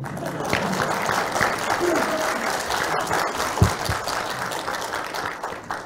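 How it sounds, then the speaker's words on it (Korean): Audience applause greets a mayoral candidate being introduced at a Sejong City local election debate, a steady, dense wash of clapping filling the room at moderate loudness throughout. "인사하실 때 박수는 치셔도 됩니다"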